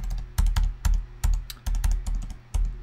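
Keys clack on a computer keyboard in a run of separate, sharp strokes with short pauses, close and clear with no talking.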